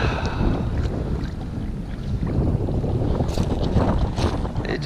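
Gusty wind buffets a kayak and its microphone out on the California Delta, a loud, rough, continuous roar with water slapping beneath.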